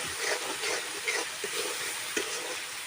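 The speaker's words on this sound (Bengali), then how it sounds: "মশলাটাকে এবারে একটু ভালো করে কষিয়ে নেব" Spice paste with salt sautéing in a pan for a thin Bengali chicken curry, a steady close sizzle with soft scraping stirs recurring every half second or so, no voices.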